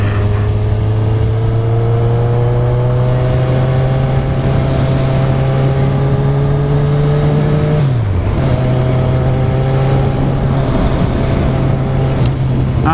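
A 2013 Kawasaki Z1000 with a 1000 cc engine drones loud and close while being ridden, holding a steady tone that dips briefly as the rider shifts and then climbs again, with heavy wind rush throughout and no talk.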